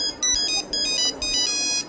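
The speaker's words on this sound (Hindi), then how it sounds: "अमजद का फोन है।" A phone ringtone plays a bright electronic tune in repeating bursts, loud and close.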